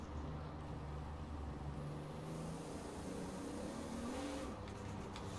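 A Toyota Supra mk3 drift car with a 1200HP engine is heard from inside the cabin, giving a steady, droning engine roar that shifts pitch slightly as it revs, with no talk.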